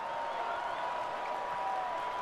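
A crowd in The Witcher 3 applauds and cheers in an arena after a beast is defeated, a steady even wash of clapping and voices heard at a moderate distance.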